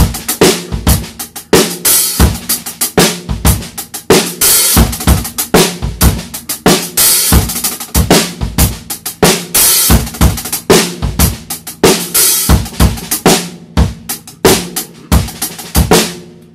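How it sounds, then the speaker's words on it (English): Drum kit playing a nine-stroke roll lick on snare and hi-hat, rapid rolls broken by sharp accented snare hits over a steady groove, close and loud throughout. "And the nine stroke would sound something like this."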